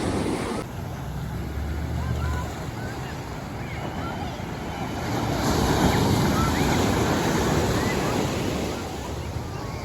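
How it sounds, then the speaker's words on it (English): Ocean waves wash onto the shore at Monterey Bay in a continuous rushing surf that swells louder midway, with wind buffeting the microphone. "It's that time of the day when the water starts coming in."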